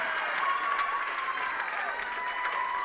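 Cheering and applause from a crowd at a WIAA high school softball sectional semifinal after a two-run home run, a steady broad roar with scattered whistles lasting throughout at constant loudness, no clear talk over it.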